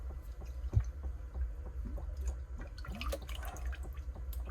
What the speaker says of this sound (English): I just tilt in the water just enough so the water can come in here and just, you know, rinse it out